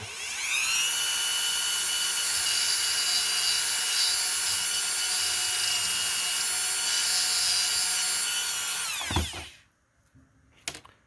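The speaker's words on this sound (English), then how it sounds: "Now I'm going to take the Dremel with the cutting wheel." A high-pitched Dremel rotary tool whines steadily while its cutting wheel grinds through plastic, then spins down and stops near the end.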